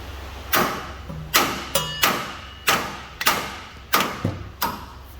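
A hammer strikes a rear axle part during an axle seal and strut replacement, eight loud metallic blows at a steady, unhurried rhythm, each ringing briefly, close and with no talking.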